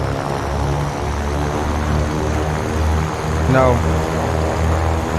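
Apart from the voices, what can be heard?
propeller engines of C414AW Chancellor run up, video game MSFS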